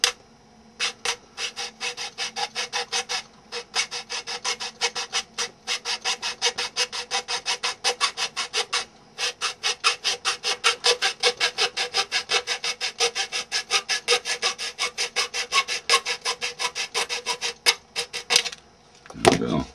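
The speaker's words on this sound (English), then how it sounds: "Go ahead and sand that up a little bit. Get rid of the edges." Rapid rhythmic rasping strokes as the edges of a wooden workbench piece are sanded by hand, loud and close, continuing almost without pause for the whole stretch.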